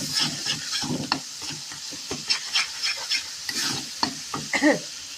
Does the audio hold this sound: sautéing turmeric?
yes